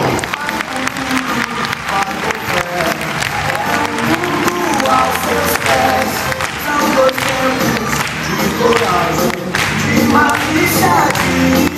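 A circus audience under the big top applauds continuously, a dense wash of many hands clapping with some cheering, over background music and a voice talking.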